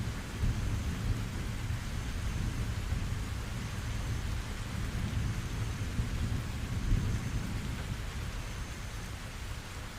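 Rain falls steadily while low thunder rumbles continuously underneath, a thick, even storm wash with no voices and no sharp cracks.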